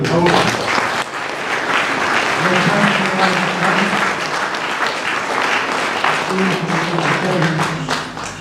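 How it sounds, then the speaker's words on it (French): Loud, sustained applause from an audience at a May 8 commemoration ceremony in Loudun, honoring a man receiving a diploma, with voices and some chatter mixed into the steady clapping. "Donc on peut l'applaudir."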